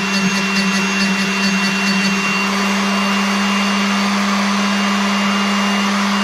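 A drill bit is ground to a split point, giving a loud, steady motor whine with a harsher grinding rasp over the first couple of seconds that then settles into an even hum.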